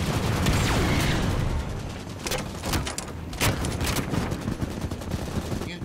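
Rapid video-game gunfire from turrets and a rocket launcher crackles in dense bursts with sharp shot transients and explosions, loud and continuous across the clip.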